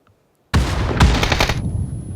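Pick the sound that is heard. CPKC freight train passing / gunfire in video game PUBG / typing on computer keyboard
gunfire in video game PUBG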